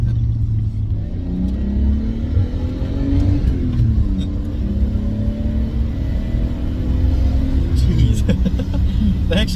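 A Nissan Skyline R32 GTS-T accelerates with a loud, close mid-pitched engine drone that climbs through revs, dips at a gear change and climbs again, while people talk over it inside the car.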